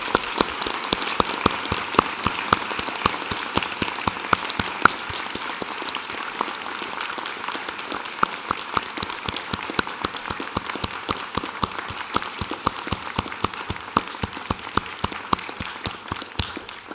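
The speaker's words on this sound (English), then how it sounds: "would join me in applauding the wonderful achievements of these graduates" A university graduation audience applauds graduates at length, a steady, moderately distant patter of many hands with individual claps close by, sustained without talk.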